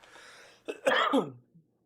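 A single cough, rough and close, preceded by a faint breath, then silence.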